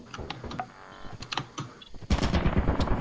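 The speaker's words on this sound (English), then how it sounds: "Oh, that's a turret! That's a turret!" Automated turret in the video game Lethal Company opening fire, a rapid burst of gunshots that bursts in loudly and sustains as continuous close machine-gun fire, following scattered clicks and thumps.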